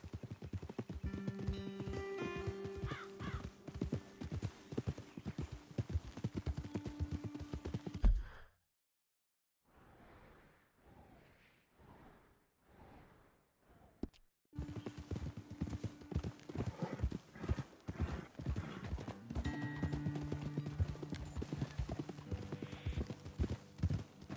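A horse's hooves clip-clop in Red Dead Redemption 2 in a steady, close rhythm under game music, stopping for a few quiet seconds before the trotting resumes.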